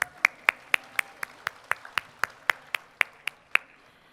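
A college convocation audience claps in sharp, evenly spaced bursts, about fifteen crisp claps in a steady rhythm close to the listener, with no talking over them.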